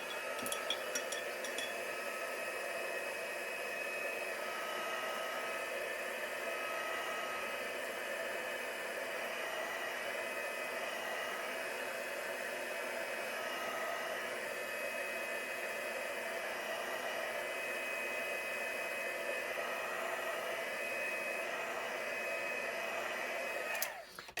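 A hair dryer drying acrylic paint runs continuously for the whole stretch, a steady even whoosh with a faint whine, then clicks off right at the end.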